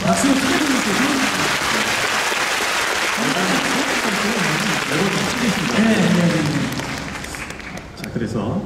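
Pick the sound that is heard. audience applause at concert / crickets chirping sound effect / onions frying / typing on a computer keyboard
audience applause at concert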